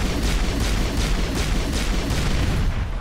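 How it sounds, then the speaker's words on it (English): Rapid, sustained gunfire sounds as a player shoots building conduits in Mass Effect. The shots form a loud, continuous, rhythmic barrage of blasts with a dense rumbling wash underneath and no pause. "So I just need to shoot them a lot more"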